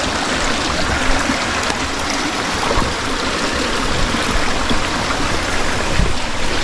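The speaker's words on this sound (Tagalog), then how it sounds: "ito yung water source nila dito guys" A mountain water source flows steadily, its continuous hiss and trickle loud and close, with no one talking.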